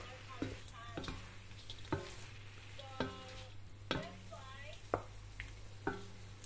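Bihon noodles seasoned with salt and pepper are stirred in a pan, a faint sizzle under roughly regular scraping strokes about once a second, with a steady low hum behind.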